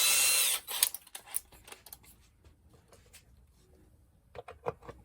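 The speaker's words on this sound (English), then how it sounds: "we're also going to drill the mounting holes at the same time" A power drill bores 1/8 inch mounting holes in a chest box build, a loud whir at the start, then scattered clicks and short taps of the bit and workpiece, with a brief burst near the end.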